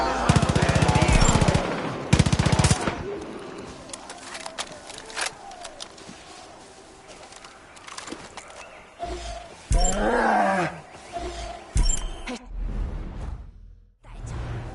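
A bear roars in the video game Far Cry 5, with loud growling bursts near the start and a strong roar around the middle, mixed with gunfire-like sharp bangs and game ambience.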